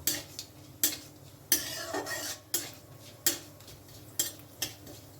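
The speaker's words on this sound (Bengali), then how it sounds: "শুকনো লঙ্কা দিয়ে দেব এক চামচ মতন পাঁচ ফোড়ন ফোড়নটা একটু নেড়ে নেব" Dried red chilies and panch phoron tempering in hot oil are stirred, giving repeated sharp spatula clicks and scrapes against the pan at an uneven pace over a faint sizzle, close by, with no talking.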